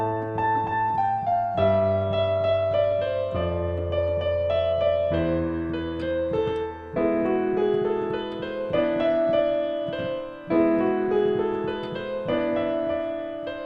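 Piano playing both hands of a Christmas lead sheet, a steady bass line under a right-hand melody of sustained chords that change every second or two, moderately loud with no talking.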